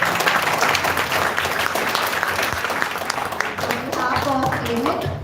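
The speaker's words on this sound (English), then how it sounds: "So can we have a round of applause for sir?" Students at an academic program on innovation and startups give a welcoming round of applause, steady and full clapping throughout, with talking and faint voices mixing in toward the end.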